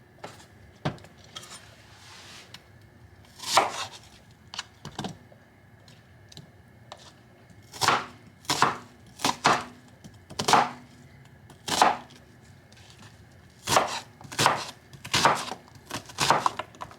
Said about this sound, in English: So you finna dice your onion now?